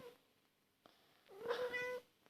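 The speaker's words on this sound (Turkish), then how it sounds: "kedinin sesi geliyorsa" A cat meows once, a short rising then falling cry, close and fairly clear against a quiet room.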